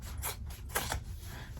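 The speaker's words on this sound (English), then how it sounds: "Then I cut across here." Scissors snip through fabric being cut for a sewn bag, three or four close, crisp cuts in quick succession with no talking.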